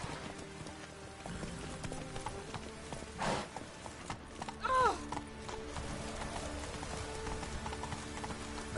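Roach, a horse in The Witcher 3, moves with soft, steady hoofbeats under rain-like ambience, and a short whinny rises partway through; the sound stays fairly quiet overall.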